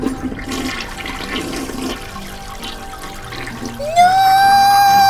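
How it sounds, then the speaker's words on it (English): A toilet flushes loudly after a doll is dropped in, a rising rushing swirl of water kicking in near the end and holding steady, with faint background noise before it. "you won't be laughing once I flush your doll down the toilet"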